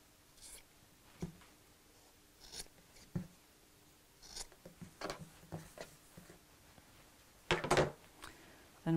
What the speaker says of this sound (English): Snip off your corners.